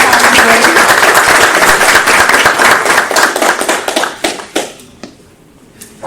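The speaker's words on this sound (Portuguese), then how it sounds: "Peço uma salva de palmas, gente, por favor." Loud, dense applause from a crowd at a university geography lecture fills the room, then thins into scattered claps and fades out near the end.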